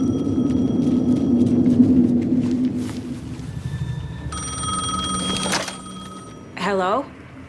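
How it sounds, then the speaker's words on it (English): A payphone rings in Alan Wake 2, a steady electronic trill over low city rumble. Someone speaks over the ringing, which grows louder and stops before a short warbling tone. "The payphone was ringing."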